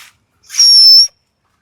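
A whistle is blown at the zoo in Lucknow, one sustained shrill, piercing tone about half a second long, loud and close, with quiet before and after.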